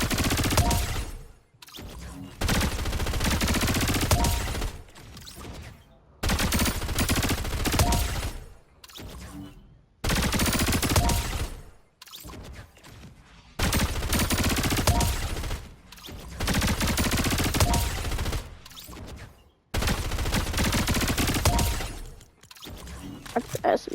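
SMG fire in Fortnite Chapter 7 comes as several long, dense bursts of rapid shots separated by short gaps, loud and close throughout.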